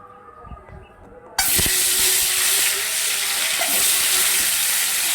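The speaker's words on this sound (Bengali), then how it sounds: "এবার একটা কড়াই বসিয়ে এবার ডিমগুলোতে নুন হলুদ মাখিয়ে ডিমগুলো ভেজে নেব।" Eggs coated in salt and turmeric hit hot oil in a wok. After a quiet, faintly clattering opening, a sudden loud, close sizzle and spatter erupt and continue steadily to the end.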